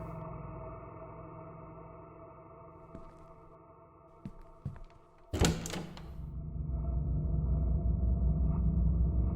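A door in a horror video game gives a couple of faint knocks, then one loud, heavy thud and rattle. A low, steady hum runs underneath and slowly rises afterward.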